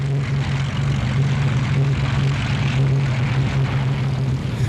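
A Japanese Zero fighter's propeller engine drones steadily and loudly with a constant low hum, no breaks across the short stretch and no voices.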